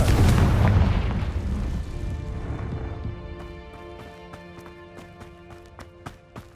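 A Confringo fire spell explodes in Hogwarts Legacy with a loud, booming burst that slowly fades into a crackling, rumbling tail, followed by a scatter of sharp ticking clicks.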